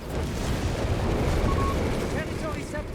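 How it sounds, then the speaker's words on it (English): Grenades bursting and heavy gunfire in a Company of Heroes 3 battle, Mills bombs exploding among Panzers, a dense, continuous roar of loud blasts and shots with faint in-game voices over it. "Their Mills bombs ripping through the Panzers there."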